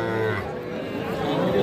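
Cattle, including bulls and calves, moo loudly and close at a busy rural cattle market, one long drawn-out low call over a murmur of crowd noise.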